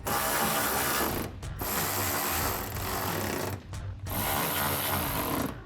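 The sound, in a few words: ratchet tightening fender flare bolts on a Tacoma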